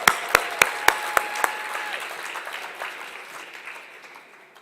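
At a science centre's tenth anniversary celebration, a few sharp, distinct claps ring out near and loud, then give way to softer scattered applause that gradually fades away.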